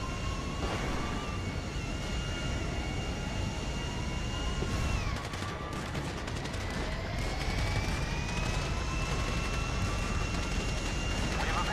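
Gunfire in GTA V rattles in rapid bursts at a jumbo jet, with dense crackling shots layered over the loud, steady roar of the jet's engines, whose pitch slowly shifts.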